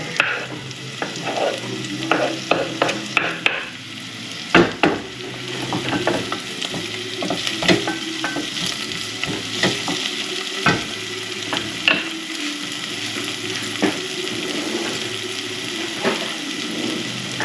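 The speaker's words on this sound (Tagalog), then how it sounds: "Lalagyan natin ang garlic at saka ginger." Garlic and ginger sizzle loudly in a hot pan, a steady close crackle punctuated by sharp spoon-against-pan knocks and scrapes as they are stirred, with no voices.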